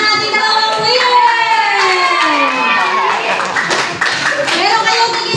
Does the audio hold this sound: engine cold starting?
no